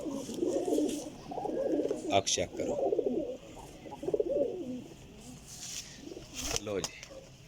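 Pigeons, caught flying birds, coo softly in Sarai Alamgir, Jhelum, under someone talking almost continuously in Punjabi, with a few sharp handling rustles between phrases.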